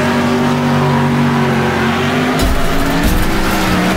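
A race car engine roars in the video game Wreckfest, loud and continuous with a droning tone that shifts pitch, then rough bursts of rumble and scraping as it surges.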